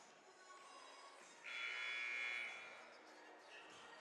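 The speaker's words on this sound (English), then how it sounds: "There's the buzzer." A steady electronic buzzer tone sounds for about a second over a faint background hum at a boys' high school basketball game, then fades.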